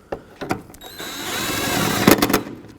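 A power tool spins taillight bolts into a 2003-2007 Nissan Murano, heard as close, loud bursts of whirring and rattling with short gaps between runs.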